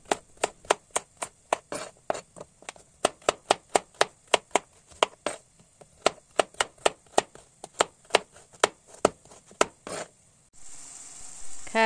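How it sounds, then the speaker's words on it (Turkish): Carrots chopped with a knife on a cutting board, a steady run of sharp close knocks, some quick and some spaced, ending in a brief rustle. "İki tane havuç doğruyoruz."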